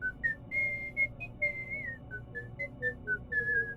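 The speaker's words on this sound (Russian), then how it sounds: "И точно в 3:03 мы услышали насвистывание." An eerie melodic whistle rises and falls in a string of short notes, the sound of someone whistling in the night at exactly 3:03. It is clear and alone over a faint low background.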